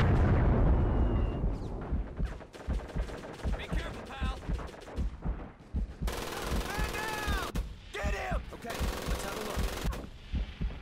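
Rapid bursts of machine gun fire in a Medal of Honor Pacific Assault last stand against a banzai charge, loud and dense with explosions and shouting voices over the shooting.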